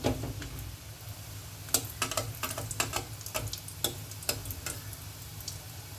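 Mutton meatballs frying in a shallow layer of oil, Chettinad style, with a steady low sizzle and scattered sharp pops and crackles, close and fairly quiet, no talking.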